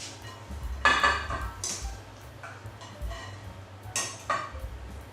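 Cauliflower pieces are spooned into a baking dish, giving light clinks and scrapes of utensil against the dish, several soft taps spread irregularly over a few seconds in a quiet kitchen.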